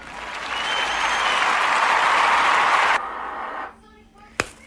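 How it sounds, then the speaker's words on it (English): Audience applause and clapping from a crowd, loud and sustained for about three seconds before cutting off abruptly, followed by quiet room tone and a brief sharp knock near the end. "let's give them a round of applause"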